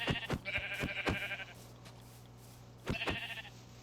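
A sheep in a survival video game lets out two fairly loud bleats separated by a quiet pause, with soft clicking sounds around them.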